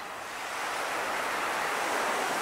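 Ocean waves breaking along Waikiki Beach on a sunny day, a steady broad wash of surf that swells slightly louder over a couple of seconds, with no voices.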